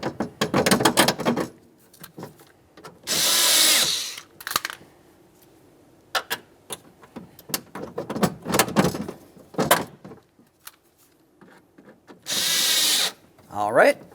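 A power tool tightens the window motor mounting bolts on a 2003-2011 Mercury Grand Marquis rear door, with several short close, loud bursts of whirring drive between clanks and handling noise.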